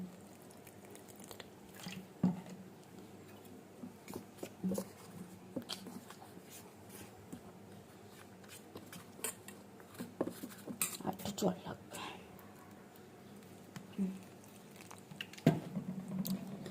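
A spoon clinks and scrapes against a bowl while garlic paste is mixed with a little water for a fried raw-banana fish dish, giving close, irregular taps and stirring with brief louder knocks.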